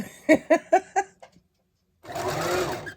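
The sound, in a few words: sewing machine running while sewing a face mask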